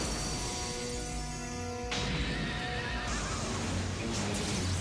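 A loud, close horse whinny with a long trembling call that breaks off sharply, followed by a noisy rush, used as the voice of the winged horse Galaxy Pegasus in a Beyblade anime.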